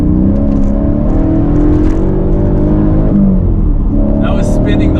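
A Mercedes CLK550 with a 5.5-liter M273 V8 and a swapped-in manual gearbox roars loudly and continuously as its wheels spin, the engine note holding steady with a brief dip and a sharper rise near the end.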